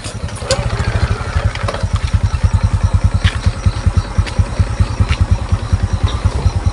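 A motorcycle engine running close by in a rural setting, a loud, rapid, even chugging idle that pulses steadily throughout with faint clatter and no talking.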